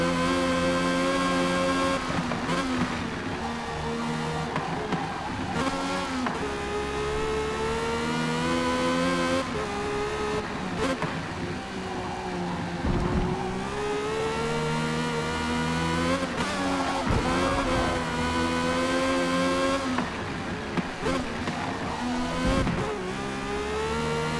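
A racing car engine in the video game Forza Motorsport revs continuously to about 11,500 rpm, its pitch climbing and dropping through repeated gear-shift cycles, loud and close with no talking.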